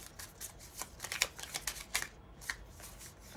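Tarot cards are shuffled by hand in quick, close, crisp riffling bursts that repeat at an uneven rhythm. The sound is fairly faint and there is no talking.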